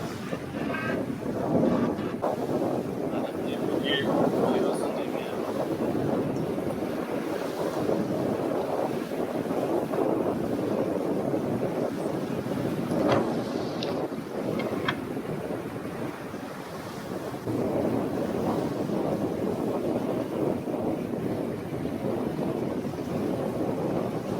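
A racing sailboat cuts fast through choppy water in strong wind, with steady roaring wind buffeting the microphone, rushing hull and wave noise, and occasional creaks and taps over a continuous loud wash.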